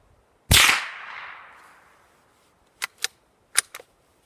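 A suppressed Savage Mark II FV-SR .22 LR rifle fires a single sharp crack with a ringing tail, followed a couple of seconds later by four short clicks and taps in two pairs.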